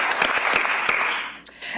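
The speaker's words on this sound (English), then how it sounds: "So let's give them a round of applause too" Applause from an audience at a school board of education meeting honoring principals, a steady burst of clapping that fades out near the end.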